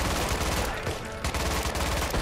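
Dense, loud gunfire fills a video game battle against an armored zombie, with rapid overlapping shots and a brief lull in the middle.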